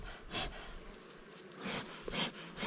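Honeybees humming inside a hive after being given puffs of smoke during a September inspection, a faint steady buzz that swells at intervals and stays quiet and diffuse throughout.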